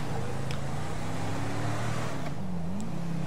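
Tuned car engine in Grand Theft Auto 5, a steady droning hum with gentle pitch shifts as the car drives on, heard alone and fairly quiet.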